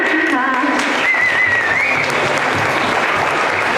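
Loud, dense applause from a crowd at a Zapatista gathering marking the anniversary of the Sixth Declaration, continuous clapping with a brief shout or whistle near the start.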